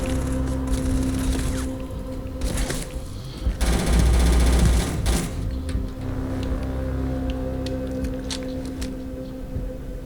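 Rapid automatic gunfire from a firefight in the video game Starfield, bursts of shots over a steady low engine-like drone, with a louder heavy burst near the middle.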